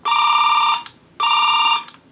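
Galaxy Gun II toy from 2001 playing an electronic phone ring, two loud, steady buzzing rings about three-quarters of a second each with a short pause between, close and clear.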